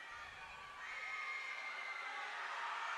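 A home crowd at the Palace gym cheers and shouts during a girls' high school basketball game. The roar is moderately distant and swells slightly, with high-pitched young voices mixed in.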